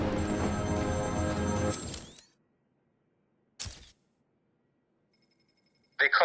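A telephone rings in the video game Batman: Arkham City, a loud ringing burst that cuts off, then a short lone ring and another bright burst at the end, separated by near silence.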